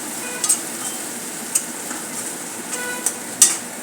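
Sesame and coconut paste masala being stirred into kurma bhaji in a pan, with a soft frying sizzle underneath and a few sharp spoon taps against the pan, close by, with no voices.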